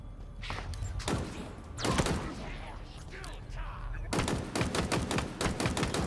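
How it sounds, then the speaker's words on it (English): Video game gunfire hitting an enemy: a few separate heavy shots early, then a rapid close burst of repeated shots toward the end, with a voice talking in between. "Shooting the top of his noggin,"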